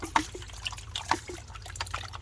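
Water sloshes and drips in a gold pan as creek material is worked down, giving close, irregular splashes and trickles with a low background hum and no speech.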